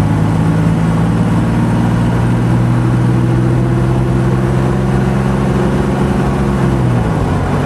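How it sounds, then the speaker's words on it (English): A 1967 Alvis automatic accelerating from a standstill, its steady engine drone rising in pitch before easing off as it changes gear near the end; a close, continuous in-car sound with no one talking. "Right, here we go, we're just starting off, that's 10 miles an hour. Changing gear, 16 miles an hour."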